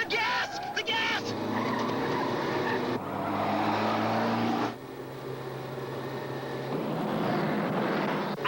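A car engine roars and surges steadily under tense shouting, the drone rising and shifting as the driver fights with pedals that sit too high, loud and continuous throughout.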